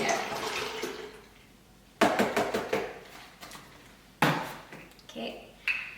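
Water from a 1.5-liter container is poured into an Instant Pot in a few splashy bursts that ring against the metal pot, close and fairly loud, with quieter gaps between pours.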